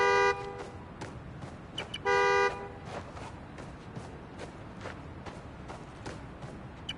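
Car horn honking in the Marvel's Spider-Man: Miles Morales game, two long steady blasts a couple of seconds apart over a busy city background with scattered knocks and clatter.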